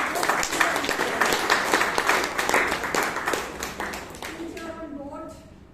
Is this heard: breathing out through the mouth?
no